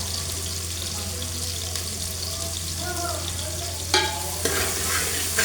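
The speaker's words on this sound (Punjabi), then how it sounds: "ਇਹਨਾਂ ਨੂੰ ਆਪਾਂ ਜ਼ਿਆਦਾ ਵੀ ਨਹੀਂ ਭੁੱਜਣਾ ਭੁੰਨਣਾ ਪਿਆਜ਼ਾਂ ਨੂੰ" Onions for a dry pumpkin vegetable dish fry in a pan with a steady close sizzle, occasional stirring scrapes and clatter cutting through.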